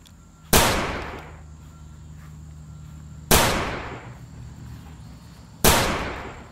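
Three sharp gunshots fired at enemies in a video game, spaced a few seconds apart, each a loud crack with a short decaying tail over a low steady background hum.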